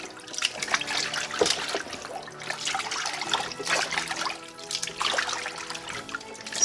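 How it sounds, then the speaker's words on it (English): Water trickles and splashes steadily while duck meat is rinsed clean for a Trinidad curry, a continuous close wet running sound with small surges and no voices. "Soak it for a little bit and we'll rinse it a couple more times until it's nice and clean."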